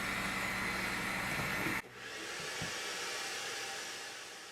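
A vacuum cleaner runs with a loud, steady airy whoosh that cuts off sharply, followed by a softer, continuous hum that gradually fades.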